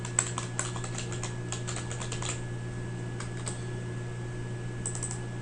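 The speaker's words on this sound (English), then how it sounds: "in C4, I want to type in starting city" Computer keyboard typed into an Excel spreadsheet, heard as quick clusters of close key clicks in bursts with pauses between, over a steady electrical hum.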